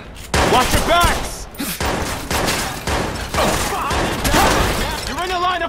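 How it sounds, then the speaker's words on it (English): Gunfire bursts in the video game Watch Dogs, loud and close, rattling in repeated volleys over a busy layered game soundscape with shouting voices mixed throughout. "Look out, shots fired."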